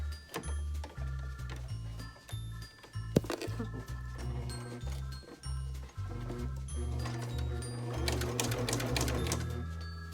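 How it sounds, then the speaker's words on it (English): A sewing machine stitching an invisible zipper, close and moderately quiet, running in short bursts of rapid mechanical whirring with brief pauses between stitch runs and a faster, busier stretch near the end. "I'm going to stitch out like that because I'm not able to go all the way down passing through my zipper"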